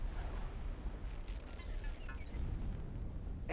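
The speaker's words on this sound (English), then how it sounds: "Explosion imminent." Explosion in the Star Wars Interworlds space combat game as a New Republic station is destroyed: a sustained, dense rumbling roar with scattered crackles, steady and fairly faint throughout, no voices over it.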